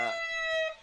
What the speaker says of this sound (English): a nice siren for one.